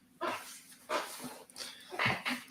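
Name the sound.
dog whimpering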